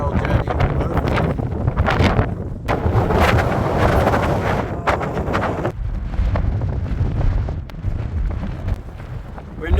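Strong gusts near the summit of Mount Katahdin on the Appalachian Trail during an ice storm batter the microphone with a loud, roaring rumble that swells and eases in waves throughout.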